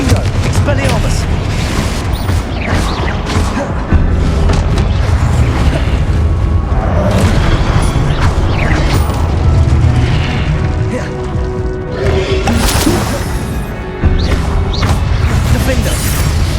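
Spell blasts and explosions from the Hogwarts Legacy video game, with repeated booming impacts and crackling bursts running loud and dense throughout, with intermittent speech mixed in.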